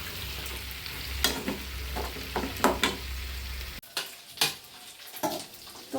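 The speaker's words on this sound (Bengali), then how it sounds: "এখান দিয়ে আমার মুরগি ভাজা হয়ে গেছে, আমি উল্টাই দিছি" Chicken pieces fry in a pan with a steady sizzle, punctuated by several stirring and turning clatters, the hiss dropping away partway through while utensil knocks continue.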